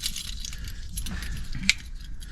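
Car keys jangle and clink steadily as they are handed over inside a 7.5 m motorhome, close by, with a sharper metallic clink near the end.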